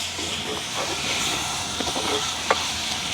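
Onion, chili, tomato and curry leaves sauté in a pan over a wood fire in a village kitchen, giving off a steady loud hiss and sizzle with a few sharp crackles.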